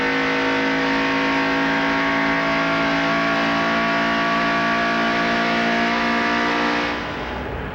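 A 1991 IROC race car at Watkins Glen holds a loud, steady high-revving engine note from an onboard position, harsh and continuous throughout before easing slightly at the end.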